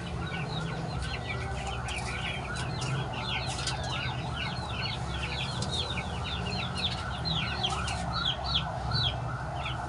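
A broody hen close to laying clucks among other chickens in a backyard coop; repeated short clucks and calls come over a low background rumble, with no one talking.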